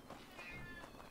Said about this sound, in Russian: Отлично, кот.